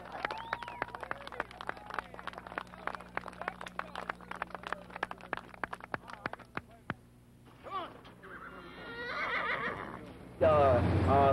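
Rapid clattering clicks and knocks give way to a horse whinnying, its wavering neigh rising loudly near the end.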